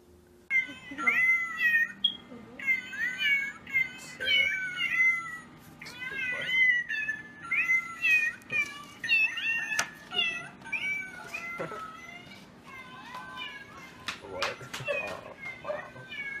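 A cat meows again and again, a run of short, rising and falling cries spaced through the stretch, fairly close and clear, with a few sharper higher calls near the end.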